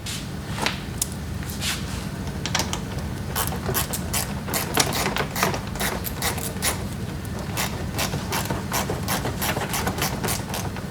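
A screw being driven into a clip on a mud flap on a 2020+ Tesla Model Y, heard as steady, close ratcheting clicks that repeat throughout over a low hum.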